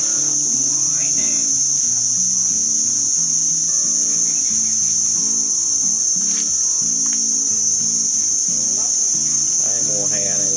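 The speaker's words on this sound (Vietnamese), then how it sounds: "mùa hè này ve kêu quá trừng" Summer cicadas drone loudly and without pause, a shrill, steady buzz hanging over an outdoor spot where beef rolled in leaves is grilled over charcoal, with soft clatter and faint background activity beneath.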